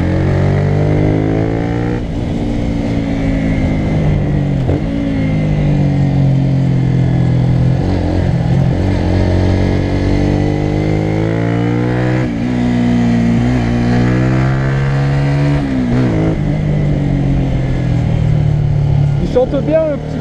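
A 2016 Honda CBR125R, a 125 cc motorcycle fitted with a Black Widow exhaust, revs up and down repeatedly, its buzzy engine note rising and falling in close, loud sweeps for the whole stretch.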